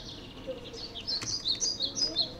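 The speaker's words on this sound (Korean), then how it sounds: "그러니까 나무 근처에 가면은 새소리가 나게 만드는 거예요." Bright, high bird chirps and tweets repeat in quick bursts over a soft background hiss, growing busier toward the end.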